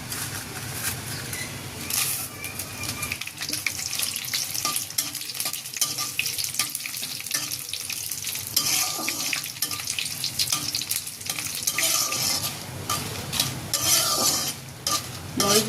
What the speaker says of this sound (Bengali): প্রথমে আমি মরিচগুলো ভেজে নেব।